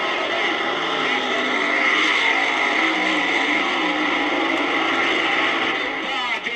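Funny cars and super stocks at the 1971 Summer Nationals drag race, a dense, continuous engine roar that stays loud throughout, with a crowd and announcer-style noise blended into the din.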